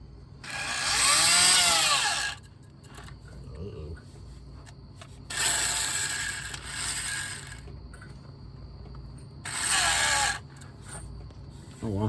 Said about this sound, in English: Poor old drill's about had it.